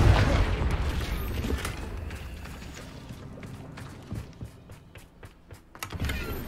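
A Confringo spell blast in a video game opens with a loud, booming burst that fades into a rumbling tail, followed by scattered softer crackles and a second swell near the end.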